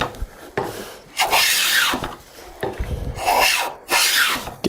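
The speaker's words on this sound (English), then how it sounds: "I'm planing all the way out to the end, and I'm smooth" Hand plane shaving along a wooden side table leg to taper it, several long rasping strokes in a steady rhythm, close and fairly loud, each pass ending in a brief pause.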